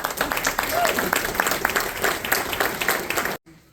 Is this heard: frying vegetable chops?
no